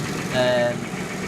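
A Peugeot 107 fresh from an engine swap idles steadily in the background, a low continuous hum with a brief tonal whine in the middle, while someone talks over it.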